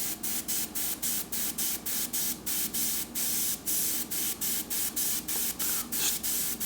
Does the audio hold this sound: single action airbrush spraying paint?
yes